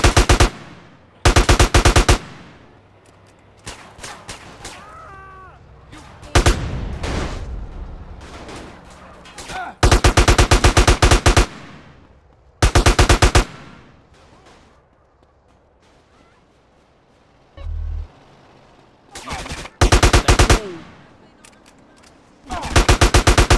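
Automatic gunfire from a gun in GTA San Andreas Definitive Edition, ripping out in several loud sustained bursts, each a second or two long, with quieter game ambience and brief lulls between them.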